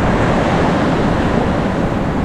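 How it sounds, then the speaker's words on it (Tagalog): Strong sea waves surging near moored fishing boats, a loud, continuous roaring wash of surf with wind noise, close and unbroken, with no talking. "malakas ang alon eh."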